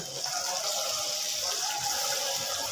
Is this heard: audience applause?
no